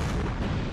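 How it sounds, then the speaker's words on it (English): An enemy fires a volley of shots in the video game Doors of Pharros, heard as one loud, dense, booming burst that fills the whole short moment. "he's firing so many shots. He's gonna fire another volley."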